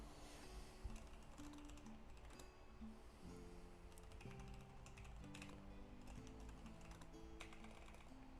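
Typing on a computer keyboard, a quiet run of rapid, irregular key clicks continuing throughout, close but soft, with faint tonal background sounds.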